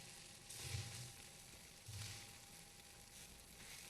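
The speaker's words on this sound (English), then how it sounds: "what he's doing is frying the rice and the vegetables together and getting those flavors to blend with the bouillon" Rice and vegetables fry in a pan with bouillon, giving a faint, steady sizzling hiss with a couple of slightly louder swells, and no talk.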